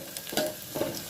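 Sliced onions frying in hot oil for a tempering, a soft sizzle with a couple of scraping stirs of the spoon, quiet and close in a short burst.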